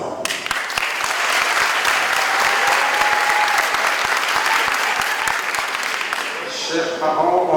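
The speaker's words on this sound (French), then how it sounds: "applaudissements." A large audience at a graduation ceremony applauds loudly and continuously, a dense, sustained roar of clapping that holds steady before easing slightly at the close.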